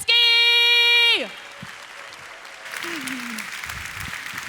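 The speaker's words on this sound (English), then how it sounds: "Please give an incredible warm round of applause for Marta" At the LOGIN 2019 tech conference, a loud synthesized tone ends. Then the audience starts a warm round of applause for Marta Krupinska, which is softer and more distant and builds steadily under a faint voice.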